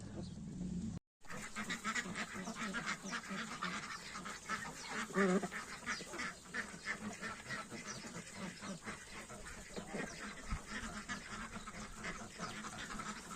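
Crested ducks quack continuously in a farmyard flock, a dense, busy chorus of overlapping calls at close range with a brief dropout near the start and a short murmur from a person.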